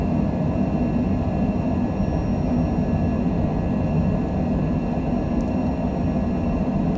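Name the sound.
Cessna Citation Longitude jet accelerating on takeoff roll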